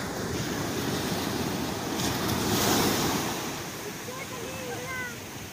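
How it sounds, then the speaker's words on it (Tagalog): Rough sea at a river mouth while a fishing net is hauled aboard a boat, continuous wave wash and wind noise swelling and easing, loud and close, with no talk. "Medyo maalon din sa part na to mga kapit."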